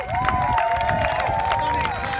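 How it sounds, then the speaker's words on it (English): Crowd applause and cheering at an outdoor acro paragliding show, scattered claps and calls under a voice that carries over the top. "give them a round of applause, ladies and gentlemen."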